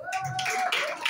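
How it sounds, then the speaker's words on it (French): A brief burst of applause from a crowd at a peace mobilization gathering in Ivory Coast, dense and steady, with a voice faintly mixed in. "On l'applaudit."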